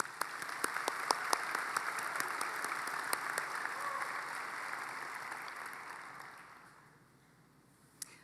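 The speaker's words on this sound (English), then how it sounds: "Let's give them all a round of applause." Audience at a college commencement ceremony applauds faculty seated on stage, a broad, steady wash of clapping that holds for several seconds, then fades out to near quiet with one last clap at the end.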